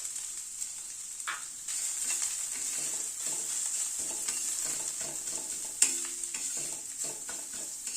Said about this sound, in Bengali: নারকেল কোড়াটাও ভালো করে মশলার সাথে কষিয়ে নেব।